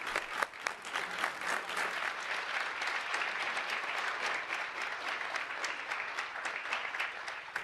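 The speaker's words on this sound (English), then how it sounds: "I'd like to offer them a round of applause" A room at a school board meeting breaks into steady, moderately distant applause for two armed services veterans, an even patter of many hands lasting several seconds with no voices.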